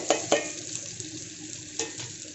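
Onion, curry leaves, green chilli and mustard seeds fry in oil for doi bhindi, giving a steady sizzle with several sharp clinks and scrapes of a spoon against the pan.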